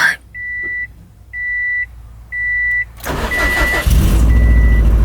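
Three evenly spaced electronic beeps sound, then a Subaru WRX engine with equal-length headers, sitting unused for six months, cranks and catches, roaring up loudly and settling into a steady run while another beep chimes.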